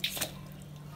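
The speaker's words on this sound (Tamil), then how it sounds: "அந்த 1 cup தண்ணி ஊற்றிட்டு" Water is poured into an iron pan, a brief close splash and trickle that fades quickly beneath a low background hum.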